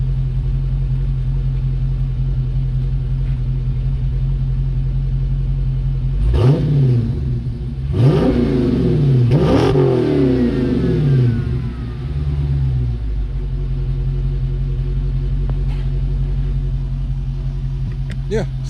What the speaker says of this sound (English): I think I'm gonna rev it a couple times.